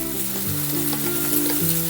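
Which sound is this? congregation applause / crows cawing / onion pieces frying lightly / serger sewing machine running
onion pieces frying lightly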